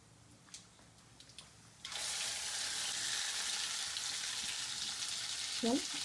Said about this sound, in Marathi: याला पण मस्त फ्राय करायचं आहे